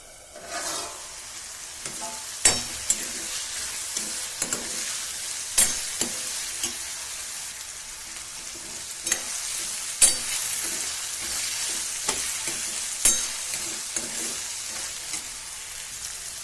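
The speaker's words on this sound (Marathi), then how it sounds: "चांगली अशी खालून हलवायची वरतून झाकण ठेवायचं" Spinach sabzi sizzles and fries in a pan with a constant hiss, broken by occasional scraping knocks of a spoon stirring it, close and without talk.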